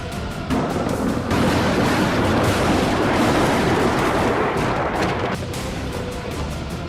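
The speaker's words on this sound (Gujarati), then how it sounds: "વોલ્નોવાખામાં પણ સીઝફાયર બાદ બોમ્બમારો થઈ રહ્યો છે" Bombing and artillery fire in the Ukraine war roll as a dense, continuous barrage of booms and crackling blasts, loud and sustained throughout.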